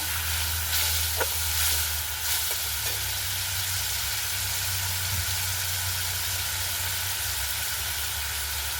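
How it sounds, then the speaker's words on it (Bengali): Tomato paste frying in a pan makes a constant dense sizzle with a few early stirring clicks, steady and close with a low background hum, no talking. "টমেটো পেস্ট দিয়ে দেবো, টমেটোকে একটু ভেজে নেব।"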